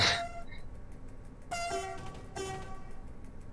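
A train horn in a train simulator video game plays a short tune: three clear notes at different pitches in quick succession, loud and close, with no voices.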